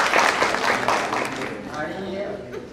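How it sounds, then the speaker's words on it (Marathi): Applause at a school batch reunion get-together, a burst of many hands clapping in a hall that fades gradually over a few seconds. "आणि त्यांच्यासाठी टाळ्या होऊन द्या."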